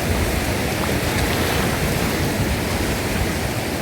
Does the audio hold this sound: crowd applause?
no